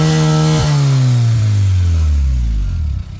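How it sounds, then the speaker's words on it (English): A turbocharged B18C Honda Integra running E85 sits on its 2-step launch limiter, the engine holding a loud, raspy, stuttering drone close up, then dropping in pitch as the revs fall away. "so we're going to do a 2-step check"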